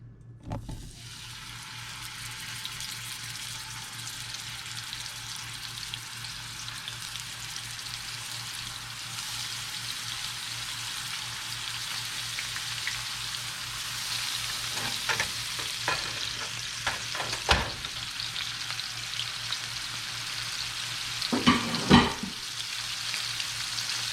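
Gafftopsail catfish fries in a hot pan for fish tacos, a steady, moderately quiet sizzle that runs throughout, with a few sharp clinks and crackling bursts late on and no talking.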